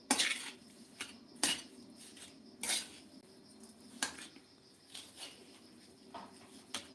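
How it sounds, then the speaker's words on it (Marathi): Metal tongs clink and scrape against a kadai in irregular, sharp taps while a samosa filling is tossed and mixed, with quiet pauses between strokes. "चिमट्याने आणि हे सर्व मिक्स करून घ्यायचं आहे"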